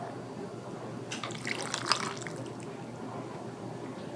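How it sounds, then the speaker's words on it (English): Home-canned chicken broth poured through a small kitchen sieve, a brief liquid splashing and trickling burst in the middle, faint and close, with quiet background before and after. "just use a little sieve and pour off the broth in it."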